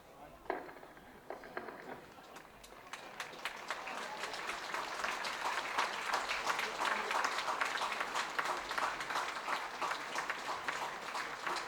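A football stadium crowd at a Scottish league match between Forfar Athletic and East Fife applauds steadily, the clapping swelling and holding at full strength, with a faint voice underneath.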